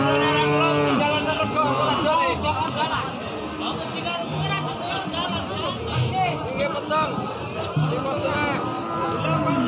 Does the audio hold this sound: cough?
no